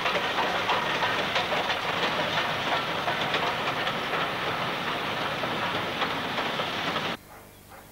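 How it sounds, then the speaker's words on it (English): Steam locomotive hauling a mixed rake of coaches on the Wirral, a loud continuous rumble and hiss with rhythmic clatter of wheels over rail joints, cutting off abruptly near the end and leaving quiet background. "This sister loco was in charge of a mixed rake of coaches"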